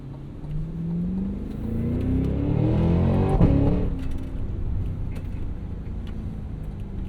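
A big 682 hp V8 engine in a 2026 Cadillac Escalade V SUV revs up, its deep roar rising in pitch to a peak, then settling back into a loud, rumbling idle nearby.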